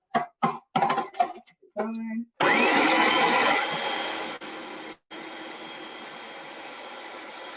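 A blender whirs loudly through dry radish leaf pesto ingredients, running in a strong continuous burst that eases slightly, cuts out briefly and starts again, after a few short voice sounds and a cough up front.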